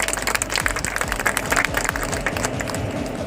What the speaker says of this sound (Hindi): उनके लिए जोरदार ताली बजा के स्वागत है